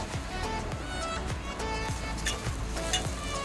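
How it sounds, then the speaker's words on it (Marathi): Chopped onion sautéing in a pan for chana dal amti, a steady close sizzle and crackle with faint stirring scrapes throughout, no talking. "हे बघा, कांदा चांगला असा परतून झाला, मऊ झाला"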